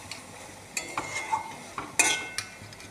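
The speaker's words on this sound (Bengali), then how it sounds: "ভালো করে নেড়ে চেড়ে ভালো করে কষতে হবে" Ridge gourd curry masala stir-fried in oil in a pan, with a quick series of close, crisp spatula scrapes and clinks over a faint sizzle, and no talking.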